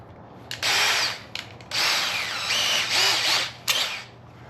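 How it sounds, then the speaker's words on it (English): Power drill spinning in bursts to clear dirt from a hole in a burned-up starter, several loud whirring runs with short pauses between, close up. "Now we're going to try to run that in there on a drill."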